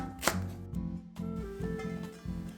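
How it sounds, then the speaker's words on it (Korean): Knife slicing green onion diagonally on a cutting board for stir-fried fish cake, a single sharp chop followed by several soft, steady cuts, close and alone over faint background music. "어묵볶음에 넣을 대파 어슷썰기 해주세요."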